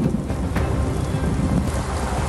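Heavy monsoon downpour over Kolkata: a dense, steady roar of rain with no let-up and no voices.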